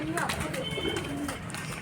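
Pigeons kept on a rooftop loft in Bhopal give soft, low cooing amid the flutter and shuffle of birds stepping out onto perches. Someone talks over them throughout.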